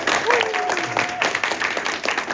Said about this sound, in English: So can we just have another round of applause?